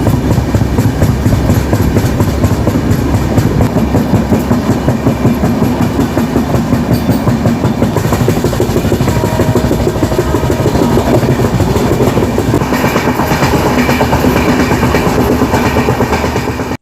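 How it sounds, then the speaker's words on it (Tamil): A fast express train running over rails with a flat wheel, producing a loud, continuous rhythmic clattering and rumbling throughout, with no voices. "கேட்டிங்களா இதுதாங்க ஃப்ளாட் வீல் சவுண்டு"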